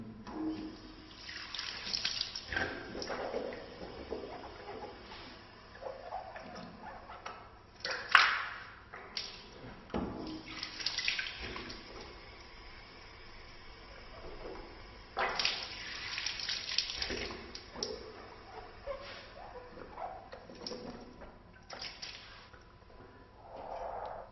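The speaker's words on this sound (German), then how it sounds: "dreimal dreimal den Mund ausspülen" Water splashes and gurgles as the mouth is rinsed during Islamic ablution (wudu), with irregular close bursts of swishing and spitting, snort-like rinses and running tap water throughout, no talking.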